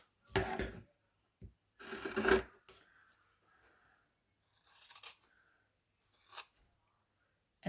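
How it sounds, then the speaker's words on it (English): Fabric pieces are cut by hand for a quilt, giving a few short, separate snips and rustles, close and fairly quiet, with silence between them. "So I cut all of this one and then all of the next one, and then just start building piles."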